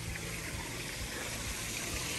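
Cold water runs in a steady, soft, continuous hiss, fairly faint and with no one talking.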